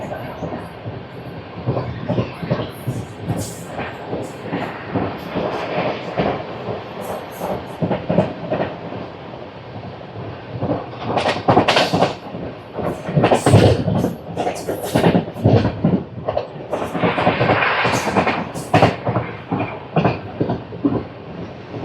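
Tambaram Express 16104 runs on rails between Rameswaram and Tambaram, a steady rumbling roar of wheels and carriage with recurring clickety-clack bursts and brief swells, heard from inside the moving train with no talk.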